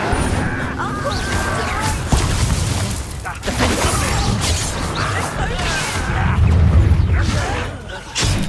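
Spell combat in Hogwarts Legacy with the Incendio fire spell cast amid a duel: whooshing magical bursts, crashes and impacts layered over music and voices throughout.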